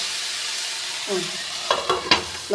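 A spatula scrapes and stirs a simple curry in a pan, with a few distinct scraping strokes and soft sizzling under a steady background hiss, close by and with no voices.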